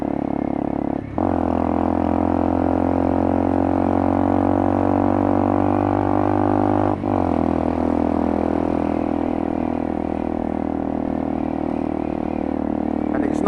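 A motorcycle fitted with a new gear lever rides along with a loud, steady engine drone; two short dips mark gear shifts, and the engine pitch settles lower after each one.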